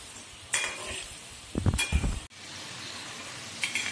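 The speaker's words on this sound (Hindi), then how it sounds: "गैस को हम कम कर देंगे और इसको पकाएंगे अच्छे से इस तरह से, इस तरह से पकाएंगे चलाते हुए" Nimki snack frying in a pan on low gas heat while being stirred, a soft steady sizzle with a few louder scraping stirs near the middle, close and with no talk.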